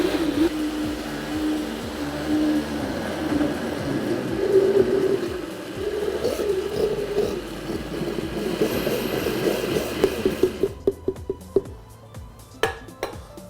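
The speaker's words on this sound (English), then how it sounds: "Now you just want to puree that down so you have like a thick fruit sauce" A blender purees fruit with water for sorbet, a loud, close motor whir churning for about ten seconds before shutting off, followed by a few sharp clinks of the jar.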